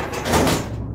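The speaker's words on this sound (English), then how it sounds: "Alright, I'll get the door." A door slides or swings open in the Henry Stickmin video game, one fairly loud swoosh that swells and then tails off.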